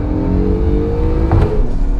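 Acura NSX hybrid sports car with a nine-speed gearbox pulling hard right after a single downshift, its engine and electric motors humming steadily as a sustained near drone, heard from inside the cabin with a window cracked.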